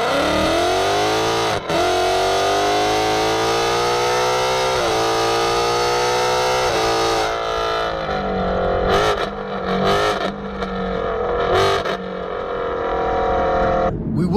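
A 2018-2019 Mustang GT with Corsa headers, Double Helix X-pipe and active exhaust runs loud and close, its V8 idling roughly then blipping and revving in several sharp bursts with crackling decel.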